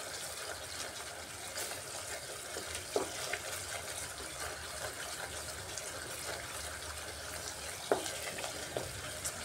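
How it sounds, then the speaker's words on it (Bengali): A spice masala cooking down in oil sizzles in a steady, dense hiss, with occasional soft clicks of stirring and no voices. "কষাতে কষাতে মশলা থেকে খুব সুন্দরভাবে তেল ছেড়ে আসছে"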